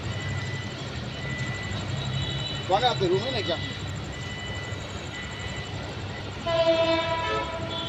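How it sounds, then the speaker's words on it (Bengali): A train passes at night with a steady low roar, a horn sounding briefly midway and again near the end, fairly close by. "এই পাশ দিয়ে আরেকটা ট্রেন আসতেছে।"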